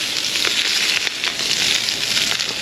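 Onions fry in a pan inside a camper van, giving a loud, steady close sizzle with small crackles and pops throughout and no talking.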